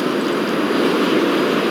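A steady, loud airplane engine in the video game GTA 5 drones without pause, a constant mechanical roar with no voices.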